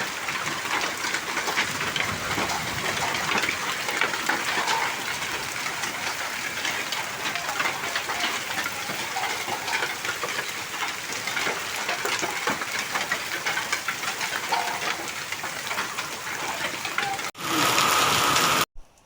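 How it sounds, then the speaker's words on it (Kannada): Hailstones pelting down in a dense, steady clatter for a long stretch at Charmadi, then cutting off abruptly near the end. "ಎಷ್ಟೊಂದು ಆಲಿಕಲ್ಲು ಬೀಳ್ತಾ ಇದೆ"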